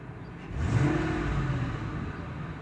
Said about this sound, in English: Even during a snap throttle, I do feel it. So I'm gonna snap the throttle.